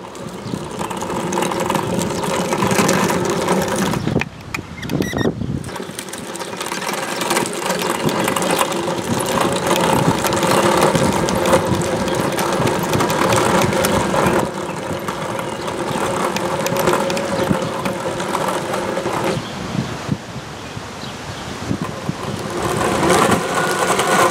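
A Hetzer's engine runs steadily near half throttle during break-in, a continuous loud mechanical drone with a brief dip around five seconds and otherwise even, close-up running noise throughout.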